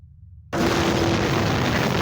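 In the video game People Playground, after a brief quiet moment, a sudden loud nuclear bomb explosion erupts into a sustained, roaring rumble that fills the space and keeps going.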